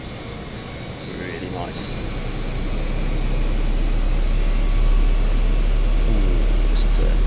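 Fenix A320 with IAE jet engines spooling up in Microsoft Flight Simulator, a broadband roar that builds steadily in loudness, with brief speech over it.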